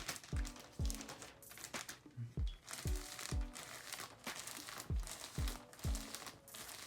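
A plastic bag crinkles in repeated bursts as it is pressed down over brushed hair, sharp close rustles arriving about every half second, each with a soft thump beneath.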